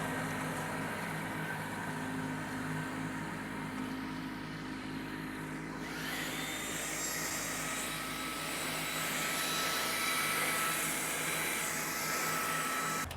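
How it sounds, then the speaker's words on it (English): A tractor pulling a leaf plow drones steadily at moderate distance with a faint whine, its pitch shifting slightly midway, no voices. "Now we can just come along with that tractor and leaf plow."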